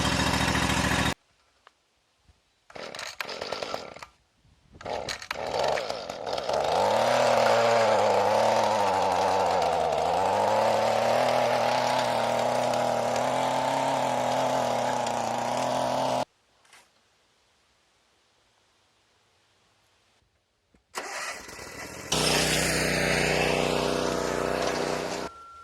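A Kawasaki-powered lawnmower fires up after a sticky choke is fixed and runs steadily for about ten seconds, a close, droning engine tone that rises slightly, then cuts out before another burst of noise.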